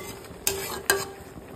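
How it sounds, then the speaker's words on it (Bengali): A spoon scrapes twice against a pot as jute greens (paat sag) are stirred while boiling, two brief clinks over a steady low bubbling hiss. "এটা 1 মিনিট নেড়ে চেড়ে শাকটা সেদ্ধ হয়ে যাবে।"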